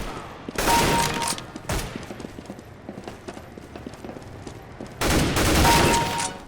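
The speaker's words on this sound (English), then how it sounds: "the old gun sounds still present in these versions" Old-style gunfire from the console port of Counter-Strike: Global Offensive, loud bursts of rapid shots clustered at the start and again near the end, with quieter scattered shots and clatter in between.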